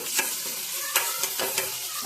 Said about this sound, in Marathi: तर यांना सर्वांना मिक्स करून घेऊया चांगलं।